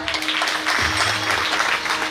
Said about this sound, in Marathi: दादांसाठी एकदा टाळ्या वाजवा.